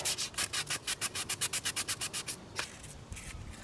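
Composite caravan panel being hand-sanded to dull its shiny surface, a fast, even run of close rasping strokes that stops, followed by a few scattered scrapes.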